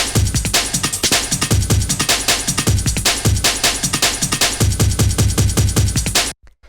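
Two layered drum breaks sampled for 1990s drum and bass, looping as a dense, loud, steady pattern of punchy kicks and crisp snares and hats, playing alone before stopping abruptly.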